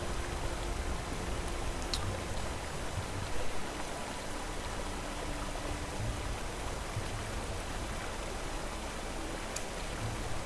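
Water in a stream flows through Skyrim with a soft, continuous broadband rush that stays even and quiet throughout, and a couple of faint clicks come through on top of it.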